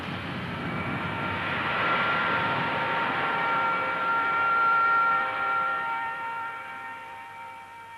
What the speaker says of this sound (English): The explosion is staggered, with a fraction of a second between the detonations in one hole and the next.